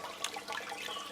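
An indoor water fountain splashing into a partly filled basin whose base acts as a sounding box, giving a steady, hollow, resonant patter close by.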